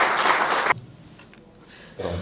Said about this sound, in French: mesdames et messieurs, veuillez applaudir monsieur Serge Sambou